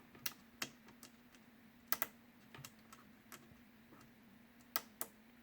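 A password is typed on a computer keyboard in a lab setting: sparse, separate key clicks, a few quick pairs, close and fairly quiet over a low steady hum, with no talking.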